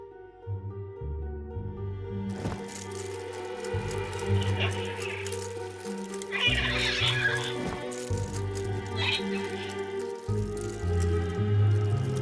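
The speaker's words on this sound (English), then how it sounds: "Automaton birds?" Mechanical automaton birds in Syberia 3 give off chirping, clucking calls over a steady tonal musical backdrop. The calls come in short bursts that grow busier midway through.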